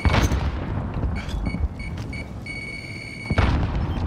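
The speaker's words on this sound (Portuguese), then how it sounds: "Throwing frag." A frag grenade goes off in Call of Duty: Warzone with a sharp close boom at the start and a second heavy blast near the end, separated by shorter bangs and steady electronic beeps.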